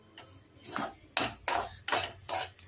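Dry semolina (rava) roasting in a pan for rava laddu, stirred with a utensil in repeated scraping, rasping strokes, close and fairly loud, with no talking.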